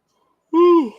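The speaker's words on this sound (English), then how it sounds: "I'm yawning already" A person yawns aloud once, close by: a single drawn-out voiced yawn that swells suddenly after a moment of silence and trails off downward at the end.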